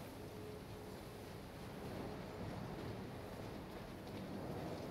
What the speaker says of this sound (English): it's not actually snowing, it's just windy